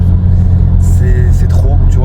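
BMW 320d with M57 diesel engine and stage 3 tuning, a steady low engine rumble heard close and loud while someone talks over it throughout.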